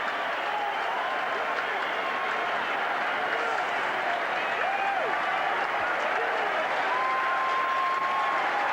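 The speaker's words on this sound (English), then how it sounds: "they're getting a standing ovation at the moment from the Concord Oval crowd" Sustained applause from the rugby crowd at Concord Oval giving a standing ovation at a 1987 Rugby World Cup match between the United States and England, a steady distant wash of clapping under a commentator's voice.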